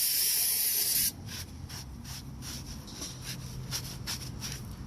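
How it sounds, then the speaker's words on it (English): An aerosol can of cleaner sprayed onto oily concrete, a loud, steady hiss for about a second, then a softer stretch of rhythmic scrubbing or dabbing. "Like I said, when you spray it,"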